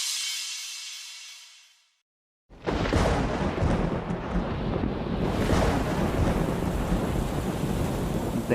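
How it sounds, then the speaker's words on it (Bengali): In an animated village scene, a soft windy hiss fades to a brief silence, then a sudden heavy downpour bursts in as a loud, steady roar that carries on without letup. "এই তো আকাশ ভেঙে বৃষ্টি নামলো বলে।"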